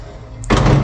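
A door shuts with a solid close-up thud, fitted with a wireless AJAX alarm sensor, preceded by a faint brief tone and followed by a sustained noisy burst.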